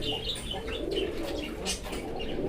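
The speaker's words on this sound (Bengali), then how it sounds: "এটা কি কবুতর ভাই?" Rasgolla fancy pigeons, sky-blue and mili colour birds at a bird seller's stall, coo steadily nearby among a dense, noisy background with scattered chirps and faint movement.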